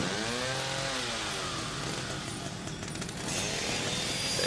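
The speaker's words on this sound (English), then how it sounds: "So let's use the chainsaw." A chainsaw revs in the game The Evil Within, its engine whining up and down in loud continuous bursts, close and alone without speech.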